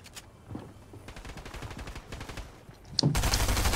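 Rapid automatic shotgun blasts in a video game, a dense run of repeated booming shots followed by a louder, sustained burst of gunfire near the end, heard up close with no talking.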